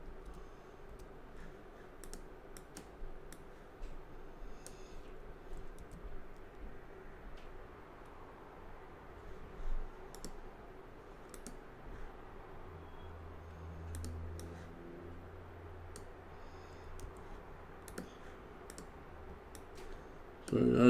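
A computer keyboard is typed on during a coding session, giving faint, scattered clicks and irregular keystrokes over a quiet room hum.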